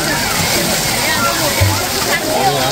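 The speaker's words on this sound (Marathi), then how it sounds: "अशा रीतीने पाणी बाहेर येतं याच्यातून" Water sprays and splashes from a splash pad fountain in a large city park, a steady close wash of sloshing water running throughout.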